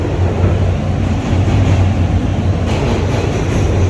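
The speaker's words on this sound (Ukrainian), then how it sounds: "Ось воно, Нью-Йоркське метро." A New York City subway train rumbles in a continuous loud roar with a low steady drone and a high whine, heard close with no talking.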